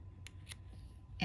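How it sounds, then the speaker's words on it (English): Scissors trimming the leader and outside edge of quilt fabric, a short crisp snip near the end over a low background hum. "trim off my leader, trim off the outside"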